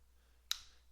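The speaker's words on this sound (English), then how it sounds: "That was me snapping my fingers." A single crisp finger snap, close and clear against a quiet background.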